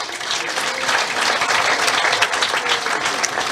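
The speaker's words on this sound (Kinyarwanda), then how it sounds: "Muyiheze amashyi." A church congregation gives steady, loud applause, a dense wash of clapping that holds evenly throughout.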